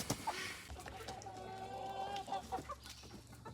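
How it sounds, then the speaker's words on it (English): Hens cluck softly at a homestead coop near dusk, a string of close, murmuring clucks and short rising calls, fairly quiet and steady throughout. "Come on out, chickens!"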